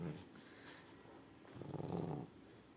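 A Shih Tzu gives a low, throaty growl, faint at first and then swelling into a rumbling burst near the end, heard close indoors.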